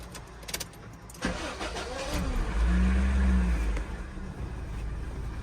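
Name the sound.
Honda Civic started to test electric power steering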